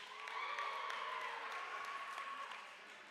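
A crowd of students at an athletic awards ceremony claps and cheers together in a steady wash of noise that eases slightly toward the end.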